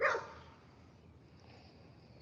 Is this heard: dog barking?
yes